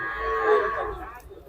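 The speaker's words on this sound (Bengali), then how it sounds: "অনেক সুন্দর একটা কালা গরু দেখতেছি।" A black cow at a Bangladeshi cattle market gives a single drawn-out low moo, close and clear, lasting over a second with faint background murmur.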